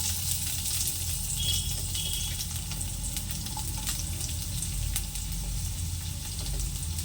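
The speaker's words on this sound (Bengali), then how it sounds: "তেল গরম হয়ে গেছে, তো প্রথমে দিয়ে দিচ্ছি মাঝারি সাইজের একটা পেঁয়াজকে কুচি কুচি করে কেটে নিয়েছি" Chopped onion, one medium onion, sizzles steadily in hot oil for a restaurant-style masala paneer, a loud, dense frying hiss that holds throughout with no talking.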